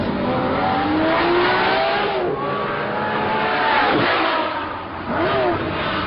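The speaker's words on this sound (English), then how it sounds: "Just for that noise when you flip the throttle." Repeated throttle blips from a Lamborghini Murcielago engine rise in pitch and fall away across several seconds. The revving is loud and close, with no voices.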